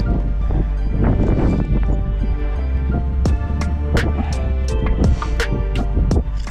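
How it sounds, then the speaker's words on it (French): Steady rushing wind on a winter ascent of Djebel Toubkal at high altitude buffets the microphone throughout, with scattered rustling and a few sharp clicks near the end. "le vent s'est levé beaucoup"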